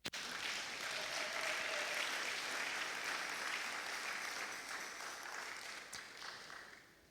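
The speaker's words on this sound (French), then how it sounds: "Je pense que vous allez vous acclamer vous-même." A church congregation applauds together at a service, a dense, steady wash of clapping that holds for several seconds and then slowly fades, with no voices over it.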